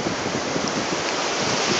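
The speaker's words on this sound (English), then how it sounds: "Oh, we don't like them waves." Ocean waves at a beach roll in as a steady, dense wash of surf noise, fairly loud and continuous with no clear breaks and no talking.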